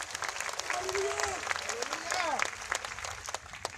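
Applause fills a church hall at an evening healing crusade service in Manado, steady clapping from a large congregation with a voice speaking and exclaiming over it throughout.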